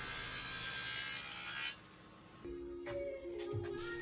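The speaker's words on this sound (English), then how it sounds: "Next, I cut a rabbet at the end of each side for the top and bottom to fit in." A power tool cuts a rabbet into the end of a mahogany bookcase side, a steady high motor whine that drops off partway through, then resumes with a changing pitch.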